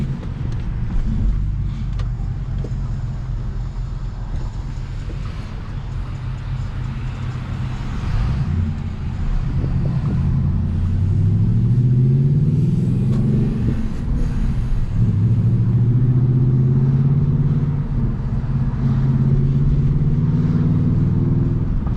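A manual transmission car driving on a warm day, its engine rumbling steadily and rising through gear changes, with the pitch climbing and dropping as it accelerates and shifts, no talking over it.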